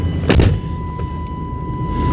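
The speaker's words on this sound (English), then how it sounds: "I know it's gonna be loud with the engine cranking and all that stuff." An old pickup truck engine rumbles loudly at close range while driving slowly across a campground, with a brief louder surge near the start and a steady low drone after.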